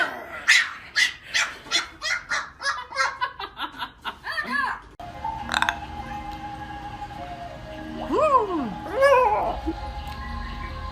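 A puppy barks in a rapid string of sharp yips, close and loud, then gives a few whining, rising yelps while people talk and laugh nearby.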